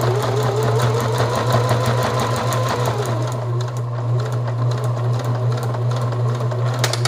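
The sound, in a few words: sewing machine sewing elastic into a beer box cowboy hat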